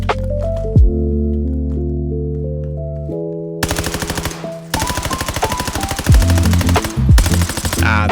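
M15 rifle fire on the firing range in Call of Duty, loud rapid automatic bursts with sharp repeated shots in several strings, punctuated by brief pauses and pitched electronic tones in between.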